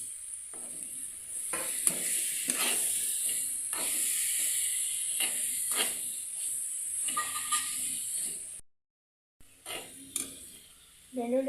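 Tomatoes fry with cumin in a pan for batani sambar, giving a steady loud sizzle with occasional stirring scrapes and clatters, then a short silent break before the sizzling resumes.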